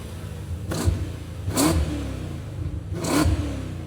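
BMW M5 sedan with an X-pipe exhaust and mufflers, still catalysed, revving three times in short rising blips over a steady, rumbling idle, close and moderately loud.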